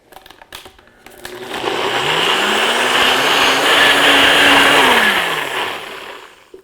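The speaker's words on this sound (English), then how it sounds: "we'll push this down, which will start the motor, and we'll let it blend for about a minute or until smooth" A blender motor whirs up loudly blending mango, pineapple and yogurt, runs steadily for a few seconds with a rising whine, then spins down and stops.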